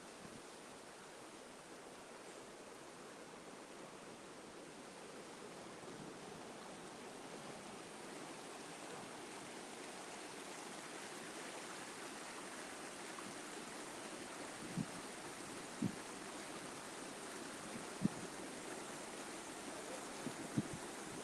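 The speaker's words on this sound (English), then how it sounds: "it's better to listen to the sea than to listen to me right now" Sea waves wash softly beside a seaside pool at sunrise, a faint, steady distant rush with a few small clicks near the end and no talking.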